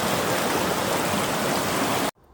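Water rushes steadily over flat rock slabs at a natural waterfall in Chaiyaphum, Thailand: a loud, dense, continuous wash that cuts off abruptly after about two seconds.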